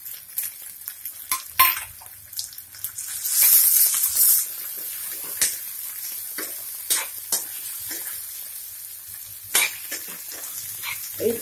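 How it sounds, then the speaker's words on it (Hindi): Peas and chopped potato cooking in a pan for poha, heard as a soft sizzle broken by intermittent spoon scrapes and clinks against the metal pan. "अभी इसमें हम मटर के दाने डालेंगे, अभी इसमें हम कटा हुआ आलू डालेंगे"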